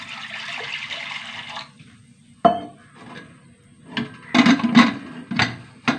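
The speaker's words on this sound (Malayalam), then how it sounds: "വെള്ളം ഒഴിച്ച് കൊടുക്കും" Water splashing into a pressure cooker of lentils in short separate pours, clinking against metal between pauses, close and fairly loud.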